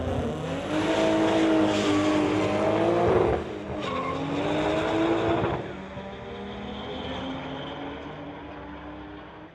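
Two Volkswagens, a 1983 VW and a 1991 VW Golf, run a street-legal drag race at a strip, their engines roaring loudly and steadily with shifting pitch before easing off toward the end, with no talk over them.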